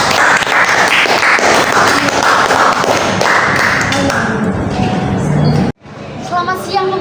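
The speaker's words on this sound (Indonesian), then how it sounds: "Beri tepuk tangan untuk kita semua." Applause from a group after a student presentation on corporate sustainability: loud, busy clapping with thumps and taps, voices mixed in, ending in a sudden cut followed by brief quieter sounds.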